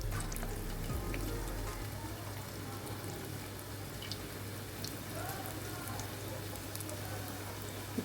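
Onion pakodi frying in hot oil on a medium flame, a steady dense crackling sizzle that carries on throughout, with a low hum beneath and no talk.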